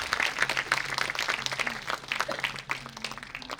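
Crowd clapping fills the hall at a college performance of Pygmalion, a continuous patter of hands from many people, moderately distant, with faint murmurs and a steady electrical hum beneath.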